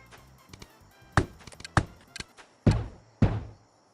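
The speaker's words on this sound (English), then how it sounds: "You keep the first initial 2 on the ground so they explode, but then while the others are in your hand, they will also explode." Grenades going off in the Yeeps hide-and-seek video game: a handful of sharp, thudding bursts, about five, spaced unevenly over a few seconds, each with a short decaying tail, fairly loud and close with no talking.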